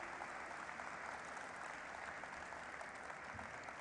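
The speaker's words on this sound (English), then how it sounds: "begin this morning, which is with a thunderous round of applause" Dense, steady applause from a large audience filling an atrium at a company listing ceremony, continuous and loud throughout with no break.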